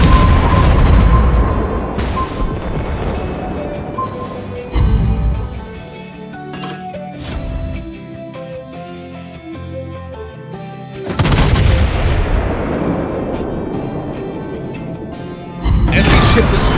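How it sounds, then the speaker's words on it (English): Naval gunfire in World of Warships Blitz, played on a Dutch cruiser: loud booming cannon salvos and explosions come in several bursts, with quieter stretches between them and game voice announcements and music alongside. "Enemy aircraft incoming! Anti-aircraft gun on full alert. Enemy torpedoes spotted!"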